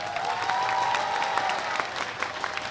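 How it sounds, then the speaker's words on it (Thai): Audience applause at a Thai political rally backing a coalition government, with dense clapping throughout, steady and fairly loud, plus a few sharper claps standing out near the end; no talk over it. "พรรคก้าวไกลก็มาปรบมือให้พรรคก้าวไกลนะครับ"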